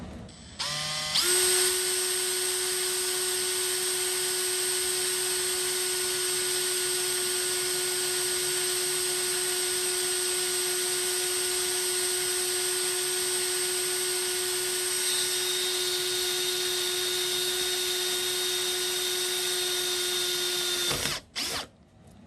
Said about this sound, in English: We're going to start with a small pilot hole.